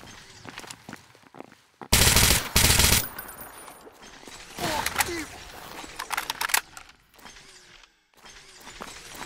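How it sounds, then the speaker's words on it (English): Grenade blast in Stalker GAMMA amid a firefight in Pripyat against Monolith: a sudden loud burst lasting about a second, then another heavy crack, scattered gunshots and movement noises around it. "Oh, that was a grenade."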